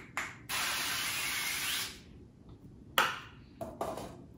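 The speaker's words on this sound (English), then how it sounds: "what I'm gonna do to start is just spray the tray for the air fryer with some" Aerosol olive oil sprayed onto an air fryer tray: a short hiss, then a long steady spray burst of over a second, followed by a couple of brief clinks and shorter spritzes, close and alone.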